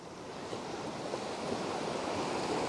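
Shallow seawater washes steadily up over beach sand at dawn, a continuous close hiss of surf with a soft low rumble and some wind noise, no voices.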